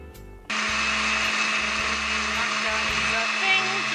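A blender whirs loudly and steadily, mixing milk, coconut milk and vanilla for haupia. It kicks on abruptly after a brief moment and then runs with a constant high-pitched whine and low motor hum.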